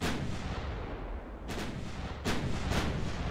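Heavy 9-inch naval guns fire in the naval warfare game Ultimate Admiral: Dreadnoughts, in a Battle of Savo Island 1942 scenario. Several booming shots burst out in quick succession over a continuous low rumble.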